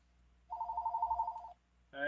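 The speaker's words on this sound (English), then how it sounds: "Sorry about the phone ringing." An indoor telephone rings with a steady electronic trill lasting about a second, moderately loud, followed by the start of a voice.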